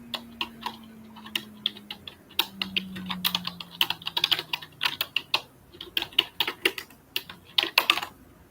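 Steady, close-up computer keyboard typing in a quiet room, with uneven bursts of crisp key taps and clicks running throughout and no talking.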